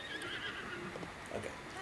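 A horse whinnies in the Zelda: Breath of the Wild video game, a single fairly clear neigh set over a steady bed of game background sound, with no talking.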